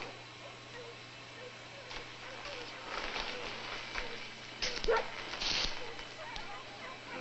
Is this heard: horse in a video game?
no